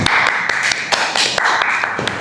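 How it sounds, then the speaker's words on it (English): A small group claps for a few seconds indoors, quick uneven hand claps close by with no talking over them. "So let's clap for first group"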